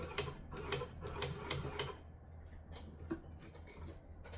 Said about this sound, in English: So I'm going to stitch, back stitch.